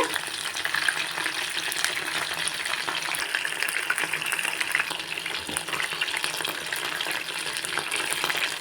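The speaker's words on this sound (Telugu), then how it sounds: "అందుకని నేను లో ఫ్లేమ్లో పెట్టి చికెను కుక్ చేసుకోవాలి నిదానంగా మనము, అప్పుడు క్రిస్పీగా వస్తుంది" Chicken pakoda pieces frying in oil on a low flame, a steady dense crackling sizzle that continues throughout, close and alone without talk.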